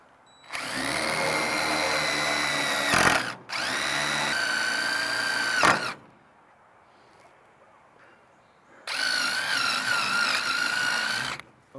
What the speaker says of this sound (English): Now the trick is to drill in without going into the hood.